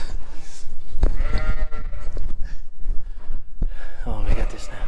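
Sheep and lambs bleat close by on a farm as they are moved, several calls breaking out over loud outdoor background noise and someone talking.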